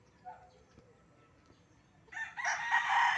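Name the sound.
rooster crowing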